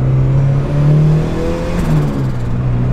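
A turbocharged Mazda Miata with a 1.6-liter engine pulls at part throttle, a loud steady drone heard from inside the car with its pitch rising and dipping slightly as it accelerates, with no talking.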